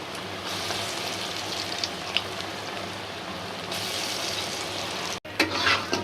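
Egg and lentil bhora fritters fry in a pan with a continuous close sizzle and crackle like light rain, briefly interrupted near the end and then resuming.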